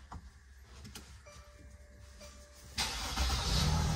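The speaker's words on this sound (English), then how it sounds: "The next step is to start the engine." A vehicle engine with a RoamRig power system is started after a quiet stretch with faint clicks and a brief whine, then it cranks and catches into a loud, steady idle.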